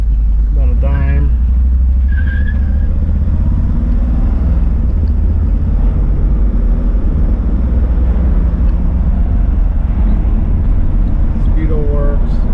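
A 1966 Buick Riviera GS with 15,000 original miles drives along, its steady low engine rumble and road noise filling the cabin continuously, with a few brief faint sounds on top.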